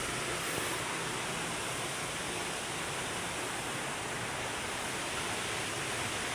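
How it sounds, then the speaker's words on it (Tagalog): Steady, broadband rushing of a flooded river fills the clip, loud and continuous nearby, with no voices. "Ilog yan, laki ng baha dito eh."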